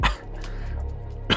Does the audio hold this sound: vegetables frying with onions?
no